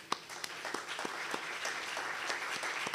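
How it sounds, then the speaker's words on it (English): Steady applause from a conference audience at the close of a session for the program director, a full crowd clapping evenly and fairly close for about three seconds. "let's close by giving a round of applause to our program"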